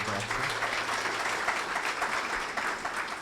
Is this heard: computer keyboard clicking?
no